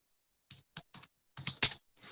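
Typing on a computer keyboard while entering a narration in Tally accounting software, a short run of about eight separate quiet key clicks in uneven bursts, with no other sound.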